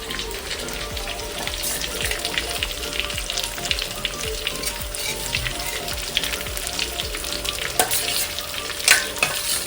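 Stuffed brinjal coated with turmeric sizzles and is stirred in a pan, a steady crackling fry with intermittent scraping of the spoon and a faint hum underneath.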